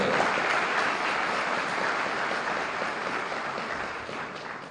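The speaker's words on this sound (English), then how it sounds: "a warm congratulations and round of applause to all of you sitting here today" An audience seated at a public address applauds as a speaker congratulates them. A broad, even wash of clapping holds for several seconds with no talk over it, then eases slightly toward the end.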